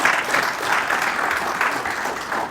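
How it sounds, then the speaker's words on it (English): Audience applause at a book launch, a steady, full clapping from a room of people lasting a couple of seconds, loud and close with no voices over it. "Can you give him a round of applause?"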